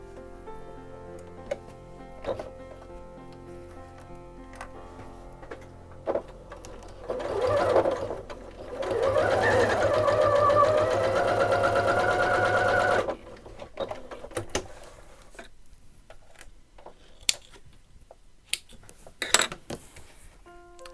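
A sewing machine fitted with a Teflon presser foot stitches, likely through leather or vinyl, with a few scattered clicks, then a steady mechanical run for several seconds, followed by lighter taps and handling noises.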